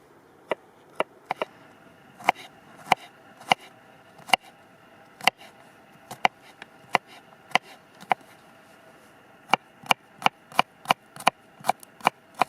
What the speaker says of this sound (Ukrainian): нарізаю дрібно чесничок